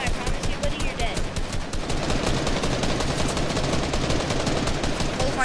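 Minigun in a video game box fight, a dense continuous rattle of rapid shots lasting several seconds, loud and close, with brief voices mixed in.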